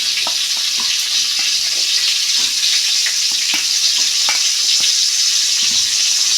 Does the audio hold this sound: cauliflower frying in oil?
yes